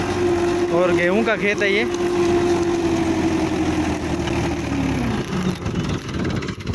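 A 1997 Mahindra 475 DI tractor pulls a six-tine chisel plough through a wheat field, its engine droning steadily near and loud beneath someone talking throughout.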